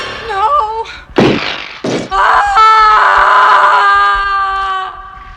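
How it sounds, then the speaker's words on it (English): A woman in the film Logan's Run lets out a long, loud wailing death scream, preceded by short harsh vocal bursts and a higher warbling tone, the cry sustained for several seconds before tailing off. "Then this Kate Bush lady lets out the most amazing death scream."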